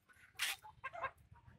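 Hen at a home poultry coop making a short burst of clucking, one loud squawk followed by softer clucks, close and alone against low background rumble.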